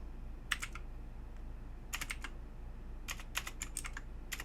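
Short bursts of typing on a computer keyboard, with quick clusters of key clicks separated by pauses over a quiet low hum in a coding session.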